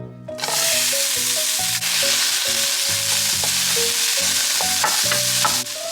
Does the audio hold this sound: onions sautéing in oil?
yes